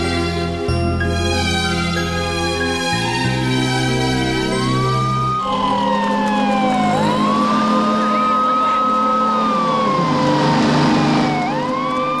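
An ambulance siren wails on a street in a South Indian action film, loud and close, with rising and falling sweeps continuing steadily alongside traffic and vehicle engine noise.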